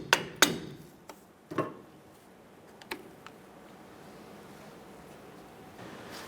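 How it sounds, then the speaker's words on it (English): A hub dust cap is knocked and popped off a 1994-2004 Chevy S10 during a front brake job, heard as a few sharp, close metallic strikes in the first two seconds, then quiet background noise. "And then we're going to go ahead and pop that cap off."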